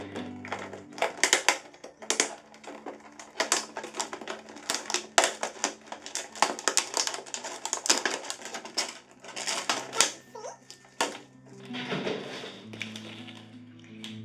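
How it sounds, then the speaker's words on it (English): Plant shipping packaging being opened during a houseplant unboxing, close crinkling, tearing and tapping of paper and plastic in quick irregular bursts. "let's open the last piece of packaging"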